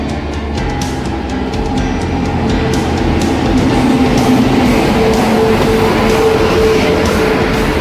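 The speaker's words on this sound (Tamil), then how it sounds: "இப்போ வந்துருக்கிற ட்ரெயின் தான் Mysore to Kochuveli express train" A Mysore to Kochuveli express passenger train rumbles loudly and steadily, with rail clatter and a faint whining tone, as it pulls alongside a station platform.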